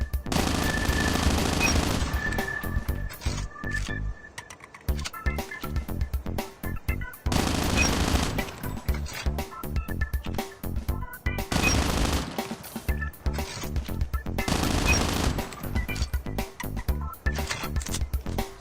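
Automatic rifle fire in Call of Duty Mobile, long sustained bursts emptying nearly a whole magazine, rapid loud cracks in dense streams broken by short pauses, with no talking.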